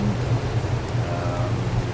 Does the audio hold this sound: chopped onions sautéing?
no